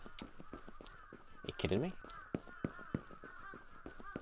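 Birds honking at a balcony in the horror game Akai Onna, a series of sharp goose-like honks in an irregular rhythm, with a brief spoken exclamation over them.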